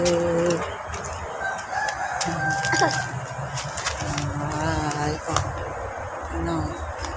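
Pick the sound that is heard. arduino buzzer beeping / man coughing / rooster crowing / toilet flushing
rooster crowing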